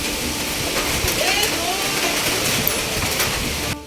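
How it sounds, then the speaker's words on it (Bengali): An afternoon storm with wind and rain: a steady, loud broadband rush of downpour and gusts, close and unbroken, with voices mixed beneath it. "প্রতিদিন বিকাল হলেই ঝড় বৃষ্টি শুরু হয়ে যাচ্ছে।"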